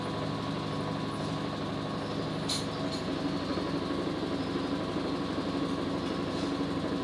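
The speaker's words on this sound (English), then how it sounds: "This is the tub which is rotating at very fast speed." Washing machine tub spinning at high speed, a steady loud mechanical whir and rumble with a constant hum that runs unbroken throughout, plus a brief clatter partway through.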